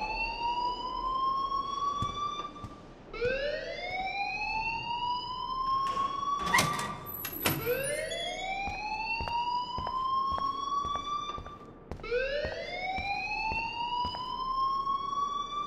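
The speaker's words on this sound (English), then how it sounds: "please turn off that alarm since that's your job" A fire alarm in Life Is Strange wails as a loud, repeating rising siren sweep, cycling every few seconds throughout, with brief clatter in the middle.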